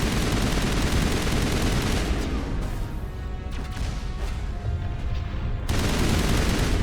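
Dense, sustained gunfire from the player's weapons in Mass Effect during a fight against turrets: rapid overlapping shots that form a loud continuous barrage, easing briefly midway before surging back.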